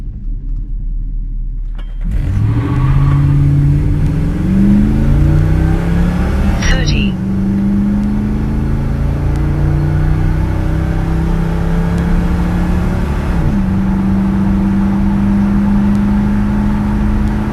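A 1986 Chevrolet C10 pickup launches on a quarter-mile test run. Its engine roars up through the gears with a rising, sustained tone, one shift dropping the pitch, and a loud, steady drone follows, with a brief squeal near the shift.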